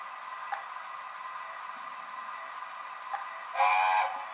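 Hornby Railmaster Gadwall model locomotive with TTS sound: a steady mechanical hum with faint clicks, then a short, loud whistle blast near the end.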